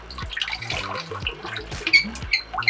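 Water drains from a well pump system into a bucket, a steady close splashing and trickling flow that rises and falls slightly throughout, with no talking.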